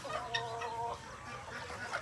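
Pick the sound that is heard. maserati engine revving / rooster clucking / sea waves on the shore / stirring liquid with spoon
rooster clucking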